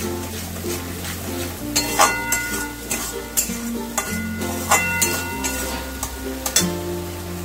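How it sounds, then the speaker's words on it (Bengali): Spice masala with turmeric, sugar and salt fries in oil for moong dal with fish head while a spoon stirs it in the pan, giving repeated scraping strokes over a steady sizzle, close and moderately loud with no speech. "দিয়ে ভালো করে নাড়াচাড়া করবো যতক্ষণ না তেল ছাড়ছে।"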